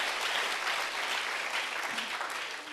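A church congregation applauds steadily during a Sunday service, a dense wash of clapping that stays loud throughout and eases slightly at the end.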